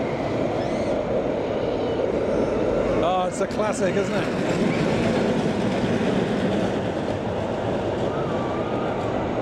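A long Zierer Tivoli roller coaster train rumbles and clatters along its track through trees at a theme park after dark, a loud continuous roar with rattling wheel noise as a voice talks over it.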